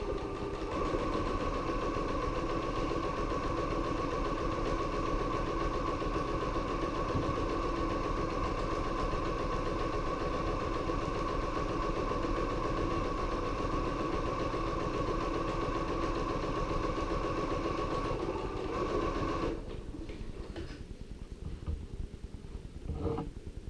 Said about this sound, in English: I'm going to stitch from end to end